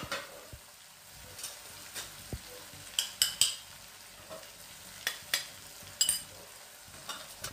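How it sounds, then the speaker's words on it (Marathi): Masala with red chilli powder and turmeric fries gently in oil over a low flame, a soft sizzle broken by repeated clinks and scrapes of a spoon against the pan, close by. "बारीक गॅसवर छान तेल सुटेपर्यंत हा मसाला होऊ देऊ आपण"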